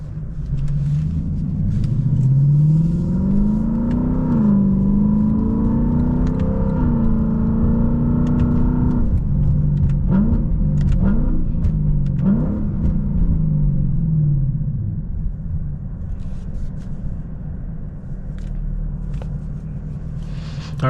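A Lexus LC 500 fitted with a Powercraft Japan axle-back and an X-Art Japan mid pipe is revved repeatedly. The engine drones at idle, then climbs and falls in several rising blips before settling back to a steady rumble.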